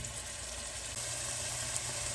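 Ground beef browning in a pan for beef ravioli, a steady soft sizzle of frying meat that holds an even, quiet hiss throughout, with no voices.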